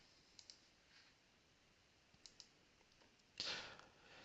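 A computer mouse clicks a few times, with light, sharp, close-up taps coming in quick pairs, then a brief rustle against a quiet background.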